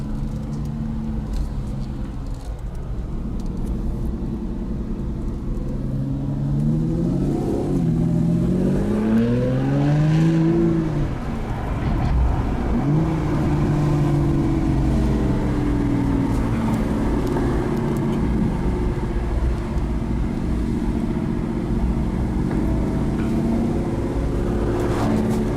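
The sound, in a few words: Aston Martin Rapide engine revving under throttle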